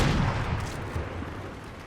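Rapid video game gunfire from an arena match rattles on as dense, continuous bursts with a heavy low thump, loud and close, fading slightly toward the end.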